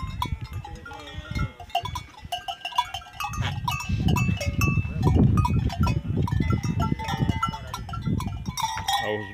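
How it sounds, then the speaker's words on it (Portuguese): A herd of goats, big billy goats among them, being brought from farmland into the caatinga scrub of Brazil. Bells clink irregularly and hooves shuffle nearby, with occasional faint bleats mixed into a busy outdoor din. "Olha os bodes grandes aqui."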